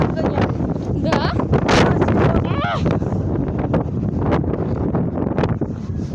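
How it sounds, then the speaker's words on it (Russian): Strong wind in the Ural mountains roars steadily into the microphone, rumbling and buffeting throughout, while a person speaks over the gusts. "Любой ветер."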